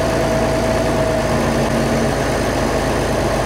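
A TD-15C crawler tractor's diesel engine runs steadily in first gear, loud and close, with a constant low rumbling drone and no voices.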